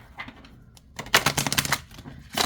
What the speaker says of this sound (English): Okay, and I'll show you how it shuffles.